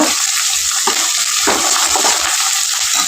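Avalakki (flattened rice) upma sizzling steadily in a pan in a North Karnataka hotel-style kitchen, with loud continuous frying hiss and a few scraping stirs of a spoon, no one talking.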